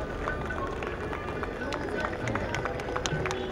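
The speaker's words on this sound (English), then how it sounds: "A big round of applause, please." Crowd applause at a chef competition's closing ceremony, a steady wash of many hands clapping with some sharper nearby claps, continuing without a break under faint background chatter.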